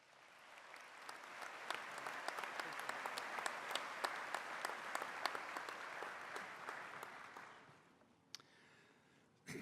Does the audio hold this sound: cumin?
no